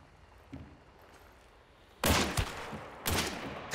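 Video game gunfire: a faint single shot, then two loud bursts of rapid fire with heavy recoil thumps, close and sharp against a quiet background.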